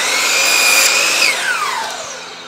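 A power saw cuts primed siding boards for a playhouse, a loud, close whine that rises, holds through the cut, then winds down in pitch as the blade spins to a stop.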